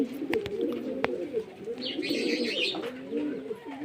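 Pigeons coo in low, rolling, overlapping calls close by, with a few sharp taps and soft chirps over the steady cooing.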